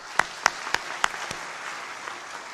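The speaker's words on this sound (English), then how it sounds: "A round of applause to them all." A few slow, separate claps ring out in a large hall at a Catholic AMECEA plenary assembly, offered to distinguished guests, then thin away into quieter scattered applause.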